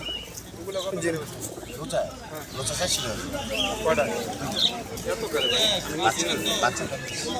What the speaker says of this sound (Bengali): এই জায়গায় দেখতেছেন অনেক সুন্দর সুন্দর কবুতরগুলো বিভিন্ন ধরনের কবুতর দেখা যাচ্ছে